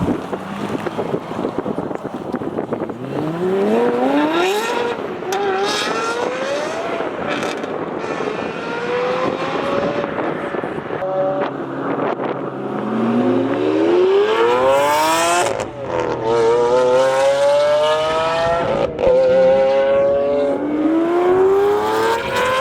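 A loud McLaren 720S exhaust roars as the engine revs hard through rising pitch sweeps, with gear changes and wind rush, heard close and continuous.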